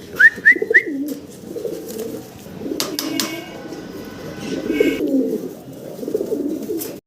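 Male pigeons scuffle and coo close by, with deep rolling coos, a few sharp higher calls at the start, and wing flaps and rustling throughout.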